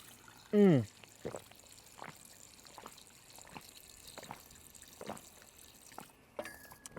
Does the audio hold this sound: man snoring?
no